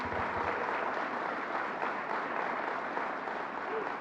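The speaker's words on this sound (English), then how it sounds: "let's give her a big round of applause." An audience applauds County Executive Laura Curran at a Long Island Rail Road Third Track groundbreaking, a dense, steady wash of clapping that holds evenly for the whole stretch.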